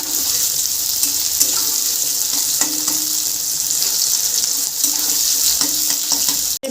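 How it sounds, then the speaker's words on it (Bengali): Sliced onions fry in hot oil for biryani birista, giving a dense, even sizzle that carries on loudly the whole time, with a few faint clinks of stirring underneath. "পেঁয়াজের বেরেস্তা ভেজে নেব"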